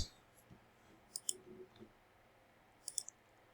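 A few sharp, small computer mouse clicks sound nearby, one pair close together, then a quiet gap before another quick cluster of clicks.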